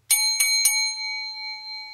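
A small hand bell rings three quick times, each bright metallic strike leaving a sustained shimmering ring that slowly fades, heard alone and fairly close.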